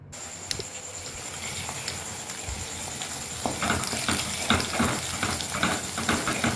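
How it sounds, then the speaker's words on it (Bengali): Four beaten eggs seasoned with salt fry for egg bhujiya in a pan, a steady close sizzle and hiss that grows busier partway through as the mixture is stirred, with no talk. "তো ভুজিয়ার জন্য 4টে ডিম, এবং তার সাথে যত সামান্য পরিমাণ স্বাদ মতো নুন দিয়ে ডিমটাকে ভেজে নিলাম।"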